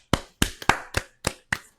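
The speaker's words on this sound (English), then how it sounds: "Clap it up." Hands clap sharply six times at close range in an uneven rhythm, each clap bright and dry, with short quiet gaps between them and no talking.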